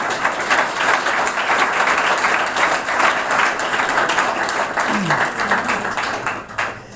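A conference audience breaks into sustained applause after a tech talk, a dense, steady wash of clapping held for several seconds before it thins out at the end.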